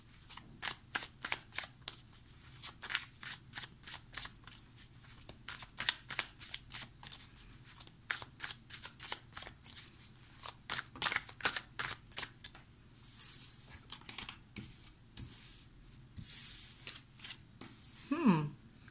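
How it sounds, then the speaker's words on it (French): Tarot cards are shuffled and drawn in a rapid run of crisp riffling flicks and slaps, close and fairly quiet, followed by a few softer card placements near the end. "on va tirer toutes les cartes pour voir, du moins la première ligne"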